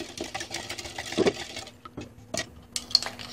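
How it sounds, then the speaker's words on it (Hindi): A spoon stirs lemon water in a glass with powdered sugar, white salt, black salt and fresh lemon juice, making quick, close, light clinks and scraping against the glass. "अच्छे तरीके से मिक्स करेंगे।"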